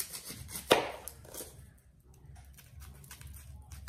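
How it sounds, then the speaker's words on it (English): A knife dices an onion on a cutting board, with a sharp thunk near the start followed by softer, irregular taps and rustling. "So I'm chopping my onion."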